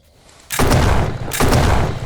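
Two heavy gunshots from a primary weapon in the zombie game Those Who Remain, each a loud, booming blast with a long rumbling tail, the second following about a second after the first.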